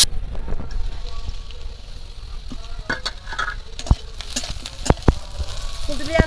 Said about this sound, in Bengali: সবজিগুলোর মধ্যে লবণ দিয়ে ভাজলে লবণটা খুব ভালো করে দিতে যাবে।